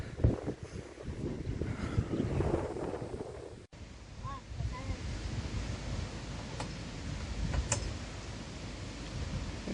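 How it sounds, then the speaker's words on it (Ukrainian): Strong wind buffets the microphone in a steady low roar on the bank of the Dnipro in Cherkasy, Ukraine, with surf or water noise behind it and no one speaking. "Вітер, звісно, дуже сильний."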